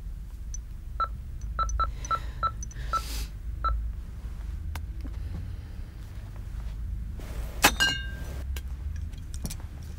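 A telephone being dialed indoors, with a series of short, evenly spaced keypad tones in the first few seconds, then quieter clicks and a brief clink later against a low background hum.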